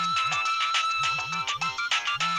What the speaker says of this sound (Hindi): ये सुनिए, सना का फोन